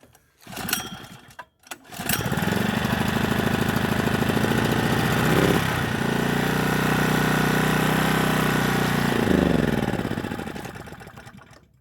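A Firman portable generator engine runs in cold weather at about -10 Celsius, catching after a brief false start and then holding a steady, loud mid-pitched drone that dips slightly partway through.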